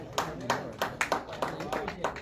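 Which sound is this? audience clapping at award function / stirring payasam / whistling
audience clapping at award function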